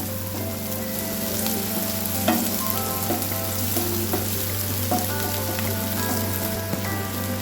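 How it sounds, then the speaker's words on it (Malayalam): Chopped onions fry steadily in a hot pan, giving a continuous dense sizzle with a few soft stirring clicks and scrapes throughout, close and alone with no talk. "നമ്മുടെ ഉള്ളിയൊക്കെ നല്ലോണം ഫ്രൈ ആയിട്ടുണ്ട്"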